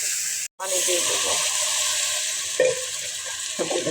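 Water poured into a hot pan of spiced winter vegetables sets off a loud, steady hiss and sizzle up close, broken by a brief cut and a couple of clinks from the pan.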